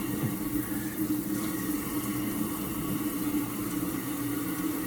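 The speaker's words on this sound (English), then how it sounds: "I'm gonna wash my hands again." Steady stream of water running from a tap at a sink while hands are washed during a backyard barbecue session cooking baby back ribs, continuous and close with no speech.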